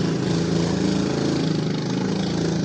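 A small mini dirt bike engine drones loud and steady as it passes, a close, continuous buzzing rasp with no voices.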